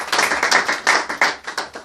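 A congregation claps together at a church service, a dense burst of hand claps with a steady beat and strong accents, loud and close, with no voices over it.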